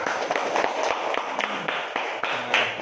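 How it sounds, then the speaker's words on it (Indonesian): Applause from a classroom group of teachers-in-training, a dense run of scattered hand claps close by, steady for several seconds with no talk. "tepuk tangan untuk kelompok satu dan kelompok dua"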